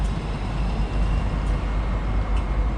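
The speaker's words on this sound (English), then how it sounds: "Lovely tram." Street-level rumble of a tram and passing road traffic on Flinders Street in Melbourne, a steady low drone with faint rail clatter, heard alone with no talk.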